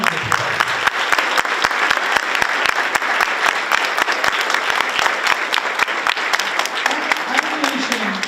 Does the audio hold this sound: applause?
yes